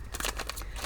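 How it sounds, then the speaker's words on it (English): A deck of tarot cards gets a quick shuffle, with a brief burst of rapid, papery riffling flutters close up and quiet. "We're going to give this another shuffle since I pulled so many"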